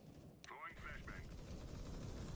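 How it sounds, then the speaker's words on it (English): A flashbang grenade detonates in the tactical shooter game CS:GO, giving a sharp, muffled burst followed by a brief wavering tone, all fairly faint over a steady low rumble of game background. "Throwing flashbang"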